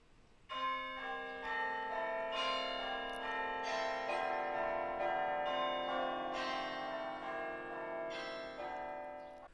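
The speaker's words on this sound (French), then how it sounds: "Là, c'est réglé sur des cloches." A bell-style alarm from a Mac countdown timer app rings out as a layered chime of church-like bell tones, struck repeatedly and sustained for several seconds, moderately loud with no talking.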